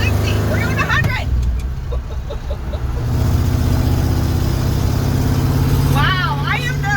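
Engine of a 1978 Ford dentside truck accelerating, a loud continuous rumbling drone heard from inside the cab, with people talking excitedly over it.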